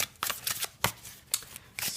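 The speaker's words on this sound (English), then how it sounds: "let's give the cards a good shuffle" Tarot cards being shuffled by hand close up, a quick series of papery riffling bursts and soft slaps in irregular rhythm, with no talking.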